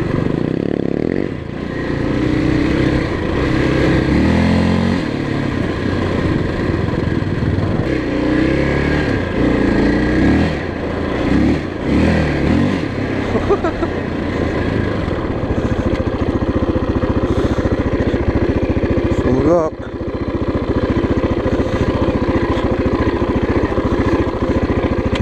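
A motorbike riding on beach sand at Port Gawler Beach, the engine droning and revving continuously up close, with brief dips in throttle and occasional clatter as it churns along.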